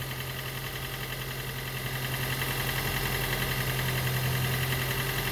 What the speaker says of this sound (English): Look, the engine is running.